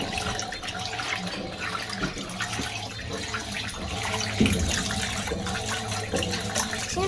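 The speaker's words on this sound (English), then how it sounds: "Now we're just doing the spin in our washing cycle." Fisher and Paykel MW511 washing machine running its wash cycle, a steady churning, sloshing water wash that continues throughout at moderate level with no talk.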